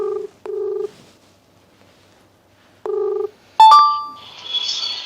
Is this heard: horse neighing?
no